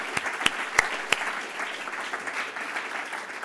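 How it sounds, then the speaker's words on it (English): Audience applause at a lecture event, a steady wash of many hands clapping, with a few sharp louder claps near the start before it settles into an even, moderately loud patter. "A round of applause."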